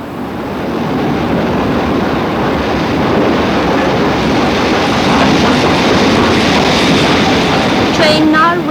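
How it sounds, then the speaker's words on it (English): A passenger train rumbles into a platform at York station, a broad, loud rolling roar building steadily, with a brief squeal of brakes near the end. "Train now arriving at platform 14 is the 9:50 for Grantham and King's Cross"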